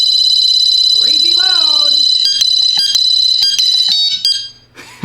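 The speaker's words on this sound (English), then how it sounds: "that's the alarm with the siren" Mosaic MA20 portable motion sensor alarm siren blaring at close range, a loud sustained piercing electronic tone with rapid pulsing bursts, preceded by a brief voice and cutting off near the end.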